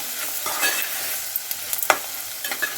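Okra fries in a hot pan, sizzling steadily while a spoon scrapes and stirs it in short strokes, heard up close with no voices.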